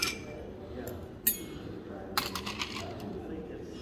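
Ice clinking against glass as a Vieux Carre cocktail is given a quick stir, a few sharp, close chinks and rattles over a faint background.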